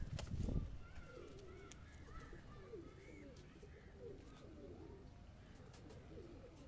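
Pigeons coo softly on a rooftop loft, low murmuring calls repeating steadily and close by, with a brief louder rustle at the start and faint background noise throughout.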